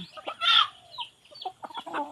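A flock of hens and chicks clucks nearby, one louder squawking call standing out early and then a run of shorter clucks and peeps, with no voices.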